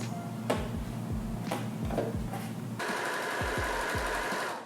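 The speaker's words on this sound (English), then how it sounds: "we're just gonna sew it right sides together to the bottom of the dress" A sewing machine stitches fabric right sides together along the bottom of a dress, running in a steady close mechanical whir with a few brief pauses and restarts and soft clicks.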